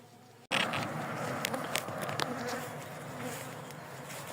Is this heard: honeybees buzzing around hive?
yes